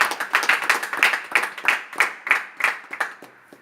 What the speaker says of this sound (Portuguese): Será que você pode aplaudir o Senhor por isso?